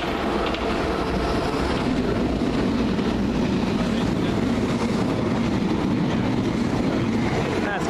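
A London Underground District line train bound for Upminster passes Stamford Brook with a loud, continuous rumble and rail clatter that holds steady throughout.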